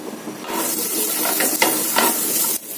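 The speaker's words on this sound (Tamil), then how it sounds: "வெட்டின வெங்காயம் கருவேப்பிலை போட்டு கொஞ்சம் நல்லா வசக்கி அதில் சேர்த்திடலாம்" Chopped onion and curry leaves sauté in a pan, giving a loud, steady, close sizzle and hiss with a few stirring scrapes and spatters rising out of it.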